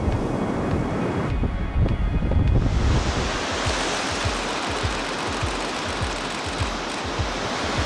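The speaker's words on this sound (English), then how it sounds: "We've got great sets of waves rolling in." Ocean waves rolling in on the Iceland coast, a loud continuous wash of surf mixed with gusty wind buffeting the microphone, close and unbroken throughout.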